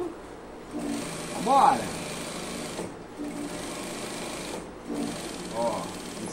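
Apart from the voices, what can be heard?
sewing machine stitching seams on trouser legs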